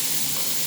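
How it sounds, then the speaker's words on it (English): Mushrooms sautéing in a hot pan for a vegetable curry, producing a dense, loud, even sizzle and hiss up close, with no voices over it. "So the mushrooms going first. And we're just going to give those a bit of a saute."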